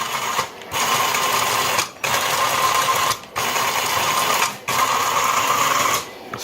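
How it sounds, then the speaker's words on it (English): The RC foot drive motors of an astromech droid whir in repeated bursts, five steady buzzing runs each broken by a brief pause, loud and close with no voices. "Foot drives are running."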